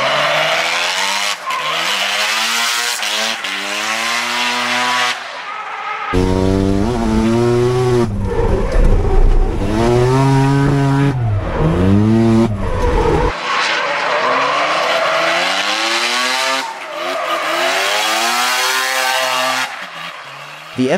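A Mazda RX-7 FD sports car with a 1.3-liter twin-rotor turbocharged Wankel rotary engine drifts, its high-pitched engine wailing and revving hard continuously, with tires screeching as it slides, loud and close throughout.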